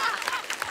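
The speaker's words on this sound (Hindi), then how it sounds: "पहले टीम के लिए जोरदार ताली।" An audience claps for the team in a short, lively burst of applause that lasts under a second.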